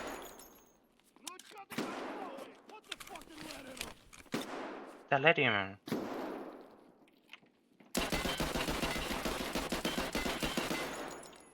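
Rapid bursts of automatic gunfire in a video game about escaping Helsinki, loud and sustained for several seconds near the end, after a stretch of speech, scattered thumps and a short ringing tone.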